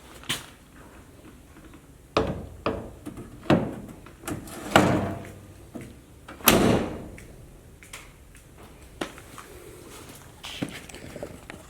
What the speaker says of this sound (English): try to get this door on